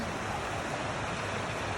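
Rain-fed waterfall in a lush outdoor setting, a steady broadband rush of falling water filling the whole stretch at constant level, close and continuous with no talk over it.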